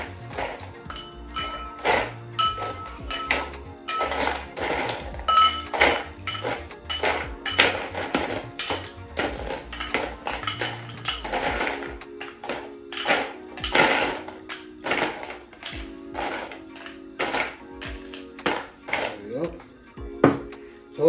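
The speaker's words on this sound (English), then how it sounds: "grab your tin or grab your mixing glass and fill it up until the limit with ice cubes" Ice cubes clatter and clink into a metal cocktail tin or mixing glass for a gin and pisco drink, a dense run of close, bright knocks and rattles lasting throughout.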